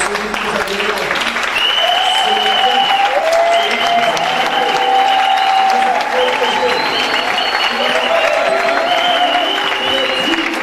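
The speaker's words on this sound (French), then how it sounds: "On peut se lever et donner une forte acclamation à celui qui nous a donné la vie." Church congregation applauding loudly and steadily throughout, dense clapping with cheers and voices mixed in, sustained at full strength for the whole stretch.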